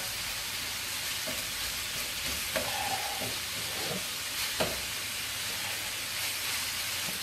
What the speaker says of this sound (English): you can see it's starting to cook pretty quick because I have a decent flame under here, probably medium high